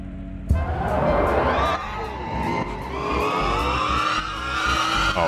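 A car races at full throttle in the Screw Drivers video game. The engine revs rise and fall loudly through the gears, and a sudden thump near the start is followed by sustained, close motor whine.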